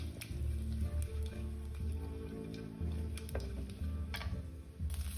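Green chilies are stirred into chena erissery, a yam curry, in a pan, with soft scraping and squishing strokes of a spoon over a low, faint simmer.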